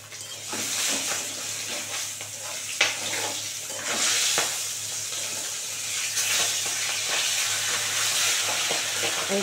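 Rita fish fries in hot oil after being turned over, giving a steady, loud sizzle with scattered pops and a few utensil knocks throughout.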